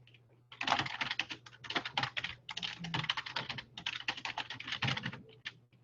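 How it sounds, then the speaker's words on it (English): Rapid, continuous typing on a computer keyboard, dense clusters of close key clicks with brief pauses, with a faint steady hum underneath and no talking. "So let me just type some things in here."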